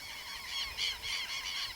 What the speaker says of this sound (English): hear a noise somewhere between a burp and a chainsaw, you're probably near a Hoatzin